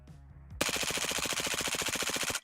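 A suppressed HK MP5 SD fires in a video game after a brief musical lead-in, a rapid, even stream of muffled automatic shots lasting nearly two seconds, then stopping abruptly.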